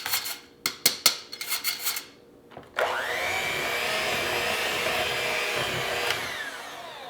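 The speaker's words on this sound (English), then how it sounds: "I'm done with the mixer." Electric mixer beating butter cookie dough for Danish butter cookies: a few short bumping and scraping knocks first, then the motor whirs up into a steady high-pitched drone that runs unbroken to the end, close and moderately loud.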